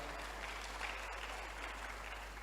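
Audience members at an empowerment summit clap for staff being introduced, a faint, distant, even patter of applause over a low electrical hum, with no voices.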